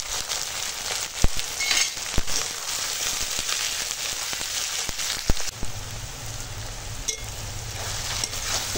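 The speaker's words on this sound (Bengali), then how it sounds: "দেখো পেঁয়াজ আর কাঁচা লঙ্কাটা সুন্দর করে ভেজে নিয়েছি" Onions and green chillies fry in hot oil in a pan over a wood-fired clay stove, giving a steady close crackling sizzle throughout, broken by a few sharp pops and clicks.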